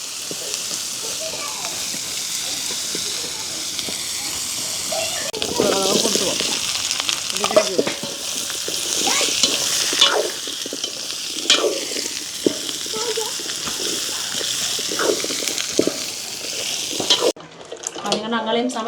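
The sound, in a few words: potato stir-fry being cooked in a pan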